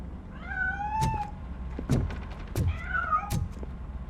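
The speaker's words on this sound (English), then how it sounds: "That cat must be hiding inside." A cat meows twice in RoboCop: Rogue City, each meow a drawn-out, wavering cry, with several dull thumps and knocks in between against a low background hum.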